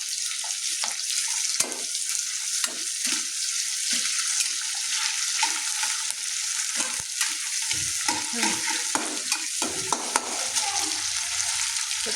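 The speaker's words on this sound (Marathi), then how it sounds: "आता तळून घेते एका टमाटा" A single tomato fries in a pan at a steady, close sizzle with occasional stirring clicks and scrapes running through the whole stretch, no voices.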